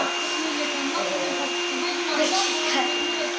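A robot vacuum cleaner whirs with a constant, close, high motor drone and a steady tonal hum, running without a break.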